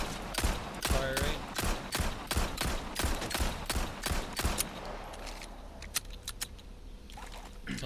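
Blacktail handgun from Resident Evil 4 firing a rapid string of about fifteen evenly spaced shots, loud and close, then a few scattered mechanical clicks and shots after the volley ends.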